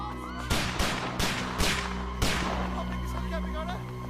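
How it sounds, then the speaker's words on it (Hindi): Several sharp, cracking gunshots ring out at irregular intervals, four distinct reports over a steady background hum, fairly loud and close. "लगता है कोई गोली चला रहा है।"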